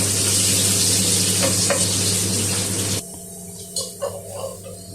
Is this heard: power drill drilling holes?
no